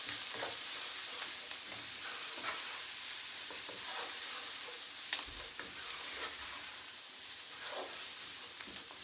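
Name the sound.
dry frying spices including paprika in a pan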